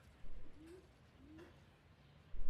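A bird in the video game L.A. Noire gives two short, soft rising calls against a quiet background, with brief thumps at the start and end.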